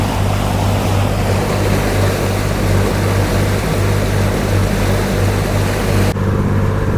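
A motorboat crosses Vembanad lake on the way from Alappuzha to Kainakary, its loud engine droning steadily and close throughout with water rushing beneath, no voices.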